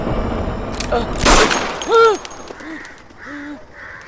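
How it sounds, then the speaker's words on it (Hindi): Pistol gunshot in a dubbed action film, a single sharp blast amid tense scene audio, followed by short voiced cries. "ये पिस्टल तो खाली थी, गोली कैसे चल गई?"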